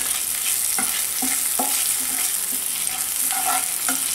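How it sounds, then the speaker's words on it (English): Around ten lightly crushed garlic cloves sautéing in a pan, a dense continuous sizzle with repeated rhythmic spoon taps and scrapes, close and without talk. "I'm going to add in a few cloves of garlic. There are around 10 cloves of garlic which I've lightly crushed and I'm going to add that to it."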